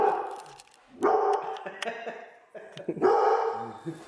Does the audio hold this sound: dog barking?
yes